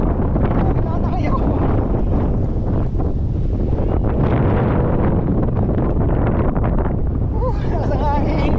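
Fierce wind on Mt. Batulao pounds the microphone in a loud continuous rumble and hiss, with someone talking faintly beneath the gusts.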